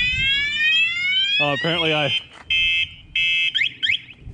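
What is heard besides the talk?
Bashan Brozz 250 dual sport motorcycle alarm going off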